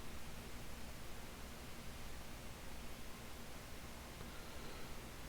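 A steady white-noise hiss plays in the background during a Total War: Attila gaming session. The sound is even, unbroken and fairly quiet, heard alone with no other sounds.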